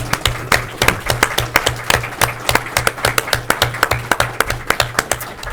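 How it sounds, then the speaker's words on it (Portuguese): Rhythmic, unison clapping from an audience at a live entrepreneurship talk show, sharp evenly spaced claps repeating steadily at a brisk pace for several seconds. "Salve de palmas."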